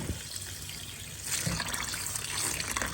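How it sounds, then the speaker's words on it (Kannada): Fenugreek leaves being washed in water to rinse off sand and soil, with a steady splash and trickle that grows louder about halfway through, close by with no talking. "ಮೆಂತ್ಯ ಸೊಪ್ಪಲ್ಲಿ ತುಂಬ ಮಣ್ಣಿರೋದ್ರಿಂದ 2 ಸಾರಿ ನೀಟಾಗಿ ತೊಳ್ಕೊಬೇಕು"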